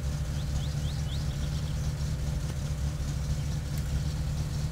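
Car engine idling in My Summer Car, a low steady rumble with a constant hum, holding even for several seconds with faint chirps in the background.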